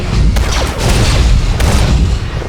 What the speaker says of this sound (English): Critical explosions detected on the foundry level.